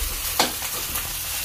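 Rice frying in a pan with a steady close sizzle, a spoon stirring and scraping through it once or twice.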